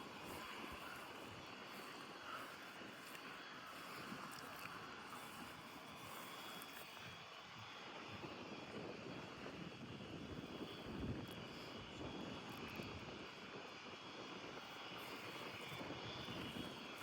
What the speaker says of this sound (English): the plane that's taking off is still down there trying to get turned around